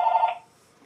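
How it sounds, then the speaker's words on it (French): Telephone ringing in a room where reborn doll varnish is being discussed: a single loud ring burst at the start that cuts off after about a third of a second, with no talk over it. "Bon, le téléphone à soir, hein?"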